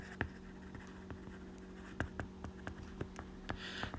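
Writing on a board during a chemistry lesson: a quiet series of short, scratchy marker or chalk strokes in irregular bursts, faint and close against a low room hum.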